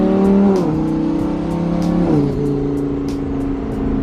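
A twin-turbo Lamborghini Huracan accelerates hard, heard from inside: a loud, buzzing engine drone that climbs steadily, dropping in pitch at two gear changes before rising again, with no talking.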